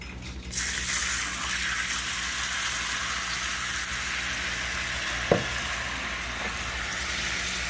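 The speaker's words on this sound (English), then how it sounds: "And I'm going to add some water in." Water poured into a smoking-hot frying pan of meatball drippings for gravy, bursting into a loud steady sizzle that fills the clip, with a brief clink of a utensil partway through.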